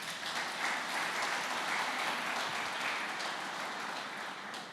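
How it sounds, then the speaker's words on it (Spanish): Church congregation applauding during a Spanish-language sermon, a dense continuous wash of clapping that holds steady for several seconds and fades slightly at the end, no voices on top. "Dale un aplauso al Señor."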